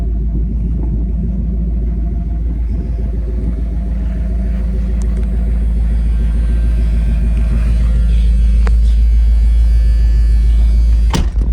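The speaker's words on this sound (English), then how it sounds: "You hear a little chop from the reground 360 cam I put in it." A Shelby truck with a reground 360 cam idles on a cold start, a loud, close, steady rumble with a slight choppy lope and no talking.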